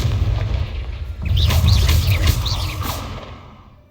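A Confringo fire spell blast from the video game Hogwarts Legacy, heard as a loud, rumbling boom with a fiery whoosh that swells and then slowly fades.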